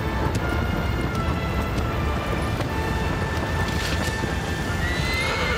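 Horse from the Shadow of the Colossus Remake on PS4 Pro, a loud neighing whinny over dense hoofbeats and a steady roaring, rain-like game ambience throughout, with no talking.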